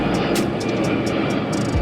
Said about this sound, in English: Plane going over above.